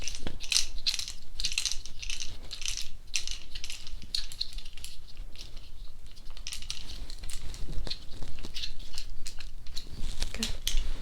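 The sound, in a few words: tightening something with a tool in ASMR roleplay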